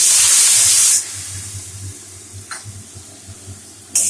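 Loud sizzle as soaked cumin and ginger masala hits fish frying in hot oil, a burst of hissing that dies to a low simmer with faint clinks and a brief second sizzle at the end.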